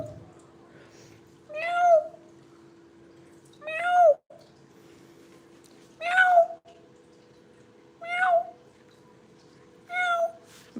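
Two cats, Betty and Mochi, meow back at a person, giving five separate drawn-out meows spaced about two seconds apart, fairly close and clear, over a faint steady hum.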